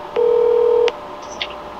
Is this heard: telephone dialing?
yes